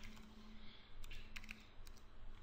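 Soft, scattered keystrokes on a computer keyboard as an IP address is entered into a shell on a virtual machine, faint clicks over a steady background hum.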